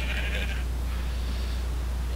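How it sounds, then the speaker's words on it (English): A sheep in the Minecraft video game bleats once near the start, a short nasal cry over a steady low game hum that continues alone afterward. "Move out of the way, stupid sheep."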